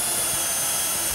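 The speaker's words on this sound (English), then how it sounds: "Taking a drill through the guide bush, then we can very quickly drill through." A drill bores a hole through the guide bush of a Lamello Zeta P-system jig, giving a steady, continuous high-pitched whine that runs unbroken and fairly close for the whole moment.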